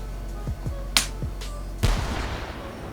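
A cannon in the VR shooting game H3VR gives a few light mechanical clicks, then fires one boom with a deep low thud and a noisy tail that fades over the next second.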